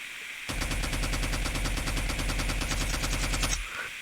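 A video game gun fires a rapid, even burst of automatic shots for about three seconds, loud and close, with a sudden start and stop and no talk.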